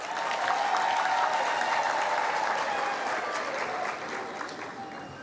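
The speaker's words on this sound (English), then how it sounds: "let's give them a big round of applause." Steady, sustained audience applause fills a graduation ceremony hall, dense and even throughout with a slight fade toward the end.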